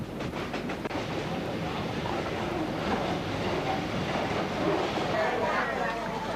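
A train on a single-track railway in Vietnam rumbles along steadily, with a continuous close clatter of wheels and cars and faint rhythmic clicks that carry on without a break.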